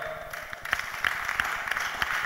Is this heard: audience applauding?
yes